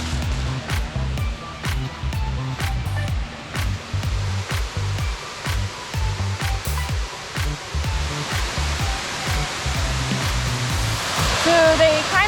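Water spilling over the dam at Lake Solitude on the Raritan River in New Jersey makes a steady, loud, hissing rush throughout, with a regular series of sharp taps, like footsteps, on top and a brief brighter swirl near the end.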